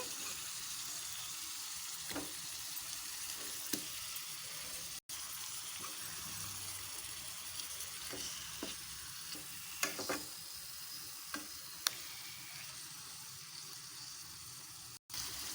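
Spiced fish pieces sizzle steadily in hot oil in a pan, with occasional scraping and clinks as they are turned over, close and continuous.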